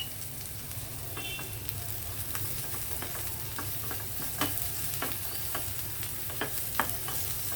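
Cumin and mustard seeds frying in hot oil for a Telugu chana dal and brinjal curry, giving a steady close sizzle with scattered sharp pops and crackles throughout and no talking.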